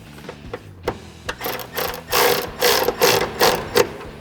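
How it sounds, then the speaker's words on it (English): A close electric ratchet with an 11 millimeter socket tightens a bolt while fitting running boards on a Ford Bronco, sounding as a rising series of rhythmic whirring bursts that grow louder toward the end. "switch over to my electric ratchet with my 11 millimeter socket on it."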